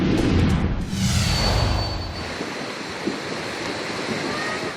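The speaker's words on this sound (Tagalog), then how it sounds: "Ganito kalakas ang agos ng baha sa Barangay Solo, Mabini, Batangas." Strong floodwater current rushing loudly in Barangay Solo, Mabini, Batangas, a dense continuous roar with heavy low rumble early and buffeting wind noise on the microphone.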